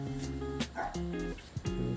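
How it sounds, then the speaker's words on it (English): Several dogs bark and yip repeatedly nearby, a loud overlapping chorus of barks with some whimpering, heard indoors without talk. "the dogs are once again noisy"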